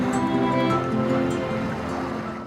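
High sea waves wash and surge near a small uninhabited island off Gwanmaedo, a dense, continuous roar of rough water that stays loud throughout.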